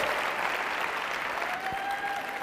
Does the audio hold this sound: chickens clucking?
no